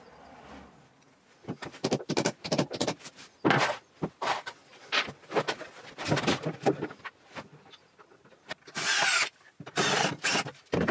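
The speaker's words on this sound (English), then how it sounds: "drilling the holes, plugging them, and screwing the cabinet into position." A power drill boring holes into a wall to hang a wall cabinet, heard as repeated short, loud bursts of whirring separated by brief pauses and handling noise.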